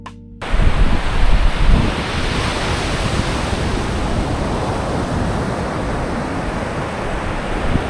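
Ocean surf rolls in at Puri beach in a loud, continuous roar of breaking waves mixed with gusty wind buffeting the microphone, with no voices over it.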